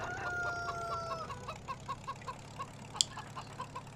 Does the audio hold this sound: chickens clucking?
yes